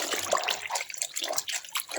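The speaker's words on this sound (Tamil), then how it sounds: "ஒரு 2 தண்ணி 3 தண்ணியில் அலசிட்டு நான் காட்டுறேன்" A towel is rinsed by hand in water, giving close splashes, trickles and drips in an irregular rhythm throughout.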